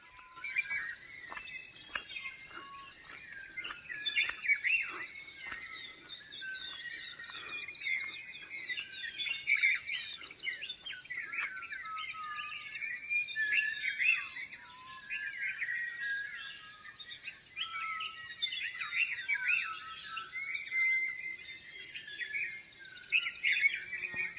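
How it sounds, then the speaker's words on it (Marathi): Many birds singing in a cliff valley at the onset of the rains, a continuous chorus of overlapping chirps and warbles with a steady insect-like trill underneath, moderately distant and echoing, no voices. "या व्हिडिओमध्ये फक्त पक्ष्यांचा आवाज ऐका, बघायचं काय नाही, फक्त आवाज ऐका"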